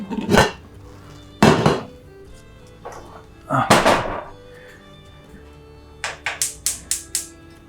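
A cooking pot is handled and set down in a home kitchen, giving a few loud metallic clanks and thunks followed by a quick run of sharp taps. No one speaks.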